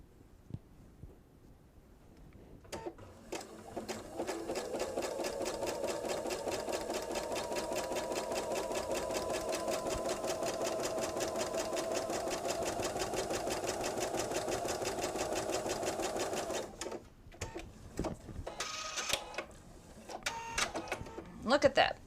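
A sewing machine stitches table runner pieces together in a long, steady run of about fourteen seconds, starting and stopping with brief handling noises, and a voice talks before and after the run.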